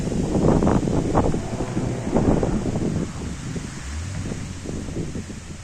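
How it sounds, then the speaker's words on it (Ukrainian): Gusty hot, dry southerly wind buffeting the microphone near flowers, loud rushing bursts that ease off after a few seconds, with faint rustling underneath. "Оце бачите такий вітер."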